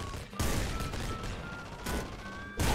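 Rapid bursts of video game weapon fire from a spiked club in Nuclear Throne, loud clustered blasts in three or four surges with brief gaps and no talking.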